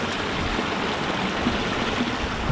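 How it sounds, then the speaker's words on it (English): A cold mountain trout creek flows right at the listener, a steady close rushing and burbling of water with no voices. "Guess I'll stand in the creek here."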